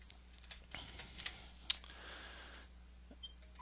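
Computer mouse clicks while working in layout software, a few sparse, sharp, close clicks spread over a few seconds against a faint low hum, with no talking.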